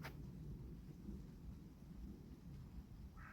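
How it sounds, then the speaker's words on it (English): A thunderstorm with rain just beginning on a high golf course: a low rolling rumble of thunder beneath a steady faint hiss of rain, distant and soft, no voices. "Big claps of thunder about."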